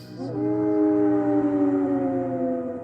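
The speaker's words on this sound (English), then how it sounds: "the distant howling in the woods when everyone was asleep" A drawn-out howl sustains steadily in the woods at night, a long wavering tonal wail holding for several seconds with a low background hum beneath it.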